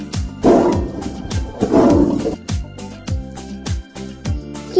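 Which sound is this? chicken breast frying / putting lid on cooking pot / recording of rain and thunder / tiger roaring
tiger roaring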